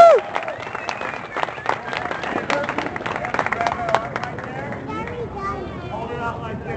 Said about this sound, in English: Everybody clap, clap.